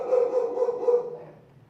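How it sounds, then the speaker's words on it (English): A big-voiced but timid dog barks in a short run of several loud, close barks that trail off into quieter sound. "She's actually like the most scared dog, but she has a big bark."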